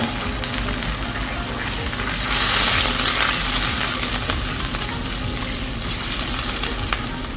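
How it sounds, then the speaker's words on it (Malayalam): Brinjal moju sauce thinned with a small cup of water bubbling and sizzling in a pan, a steady close simmer with faint clinks and a brief louder surge midway, no talking. "ഇത് ഏകദേശം തിളച്ച് വന്നിട്ടുണ്ട്."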